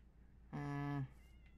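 A single clear cat meow from a Minecraft game, short and tonal, standing alone over a quiet background.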